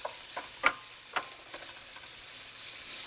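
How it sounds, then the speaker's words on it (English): Onion frying in olive oil in a pan gives a soft, steady sizzle, with a few light ticks and clicks from stirring early on and no voices. "I've got a little bit of olive oil in a pan, and I'm going to add some onion. Cook that down."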